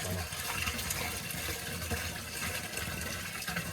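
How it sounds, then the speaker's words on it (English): Water from a whole-house water filter housing is dumped into a sump, making a quiet, continuous gushing and splashing pour that stays steady throughout. "I dump the water in the sump."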